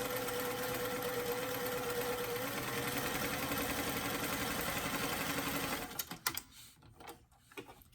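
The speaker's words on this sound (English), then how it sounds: "Then you'll switch your stitch length on your machine, make it a little bit narrower, and add a little bit of a zigzag." A sewing machine runs steadily for about six seconds, zigzag stitching the sleeve edge of a doll top, then stops, followed by a few light clatters of fabric and machine handling.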